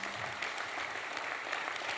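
Audience applause at an evening business event in an exhibition hall, a steady, dense wash of clapping that fills the short moment without pause.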